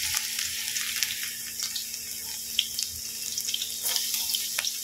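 Garlic dropped into hot oil in a frying pan for sautéed dried anchovies, giving a steady bright hiss with occasional small pops and crackles, close and continuous.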